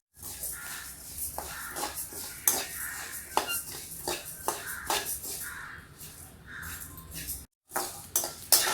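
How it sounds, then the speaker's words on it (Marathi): Coriander seeds dry-roasting in a pan rattle and scrape as they are stirred, with quiet metallic clinks and taps on the cookware at an uneven, busy rhythm. "आता आपण धने भाजून घेऊया"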